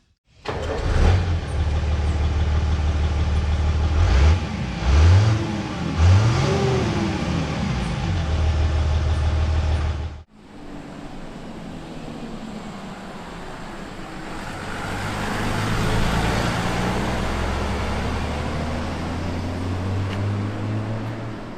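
A Chevrolet Silverado Conquest pickup's 4.2-litre inline six-cylinder MWM Sprint turbo diesel drones and revs up and down for several seconds, then cuts to steady road and wind noise as it drives along.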